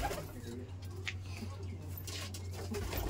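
Old Bengali Giribaz pigeons coo faintly in a partitioned loft over a steady low hum, with soft murmuring voices nearby.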